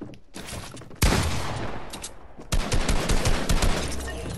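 Bursts of rapid gunfire from a PS4 video game fire in quick volleys, a sharp onset followed by sustained shots and another string of loud rounds near the end, with no talk.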